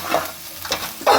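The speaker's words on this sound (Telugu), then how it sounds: "బాగా కలుపుకోవాలన్నమాట." Turmeric being stirred into a ginger tamarind curry in a pan, with short scraping strokes and a soft sizzle, close and fairly loud, alone.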